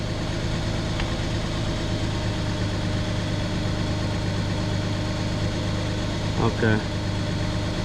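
A Nissan Pathfinder engine idles close by, a steady low rumbling hum throughout, with someone briefly speaking near the end.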